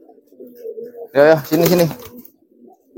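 Low cooing of a giring racing pigeon in training rumbles softly under a short burst of speech from a nearby person.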